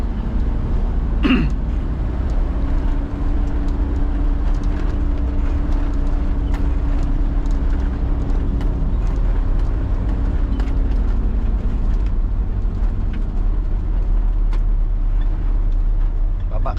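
A Fuso Canter truck with a manual gearbox driving on the road, heard from the cab as a loud, steady low engine drone with a faint rising whine early on and scattered rattles throughout.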